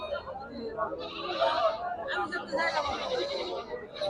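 Goats bleat repeatedly among the crowd at a Bangladeshi goat market, where Pati goats are sold; the calls come and go against a steady background of nearby chatter and milling voices.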